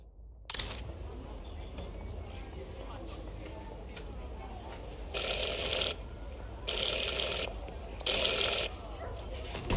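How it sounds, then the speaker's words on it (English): Bell rung three times in the game Syberia: The World Before, three separate bright, ringing bursts evenly spaced over a low background murmur. "Ring 3 times for urgent matters."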